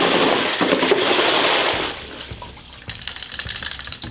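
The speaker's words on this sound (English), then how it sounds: "I just rinse it in some water there." Honing stones from a Jeep inline six-cylinder engine rebuild are rinsed in water. A close, loud rushing splash lasts about two seconds, then gives way to quieter drips and light clicks and knocks.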